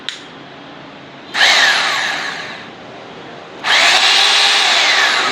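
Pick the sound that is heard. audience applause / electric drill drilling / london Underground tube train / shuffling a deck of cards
electric drill drilling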